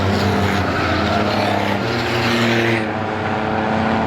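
Six Shooter race cars at Star Speedway roar past with loud rising and falling engine tones, several cars overlapping close by as they accelerate down the back straight.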